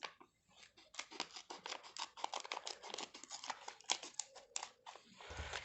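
Scissors snip through the plastic packaging of a Tonymoly Caviar sheet mask, a rapid series of close, crisp cuts and crinkles running throughout.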